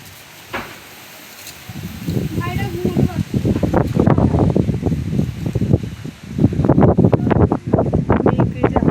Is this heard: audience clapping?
no